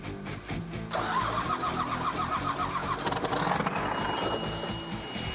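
A combine harvester's diesel engine cranks and catches after brake cleaner is sprayed to help it start, then roars and revs unevenly close by.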